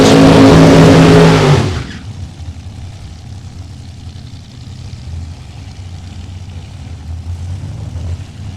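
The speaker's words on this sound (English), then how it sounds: "Beyond Reason Dragster, supercharged machine left side." A supercharged dragster at a drag race roars at full volume for under two seconds, then cuts off abruptly, leaving a low distant rumble of engines and crowd ambience.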